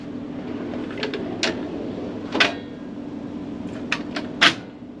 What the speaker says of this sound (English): Now this is a thicker drawer here. And it really goes out far.